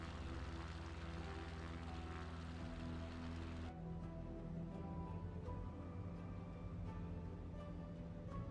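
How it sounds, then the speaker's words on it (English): Airplane engine in the video game Microsoft Flight Simulator 2024, a steady droning propeller hum with strong low tones that holds constant throughout, slightly shifting in character partway through. "I think you guys can hear the plane and stuff."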